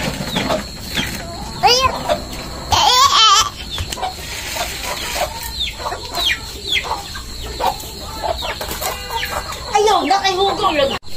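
Chickens cluck and squawk busily close by, with sharp bursts of agitated calls and a person talking intermittently over the flock.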